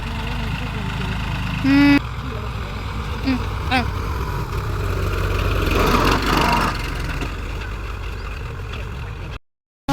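A farm vehicle's engine drones steadily and fairly loud while it drives through a wet, muddy field where urad beans are about to be sown. Voices talk over it at moments, and the sound cuts off abruptly near the end.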